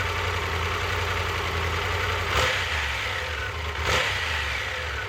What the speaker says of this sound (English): the bike is very quiet at idle and lower RPM